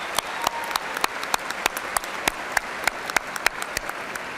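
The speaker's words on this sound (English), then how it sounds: "join me in showing appreciation for these very important people in your lives with a generous round of applause" Large commencement audience at a university graduation clapping in a generous round of applause, a continuous rain of hands with a few sharp, close claps standing out.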